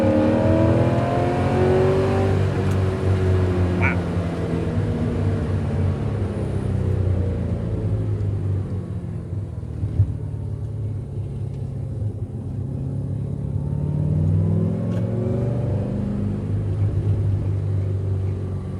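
A Porsche 944 with an LS swap V8 pulls hard from inside the car, its deep engine note rising and falling steadily through gears and turns, loud and continuous with no talk.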